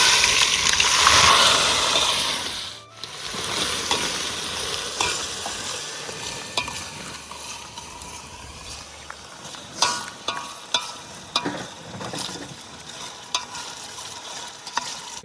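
Onions frying and being stirred in a pan for a Kathiyawadi-style whole garlic curry cooked outdoors on a farm; a steady close sizzle with scraping stir strokes, then scattered spatula clinks and taps later on.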